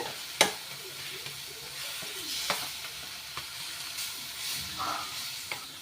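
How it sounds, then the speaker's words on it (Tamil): Steady sizzling hiss of onions frying in oil, with occasional clinks of a spoon stirring in the pan, no one speaking. "இந்த எண்ணெயில் நல்லா வறுத்துட்டுக்கோங்க வெங்காயம் கூட"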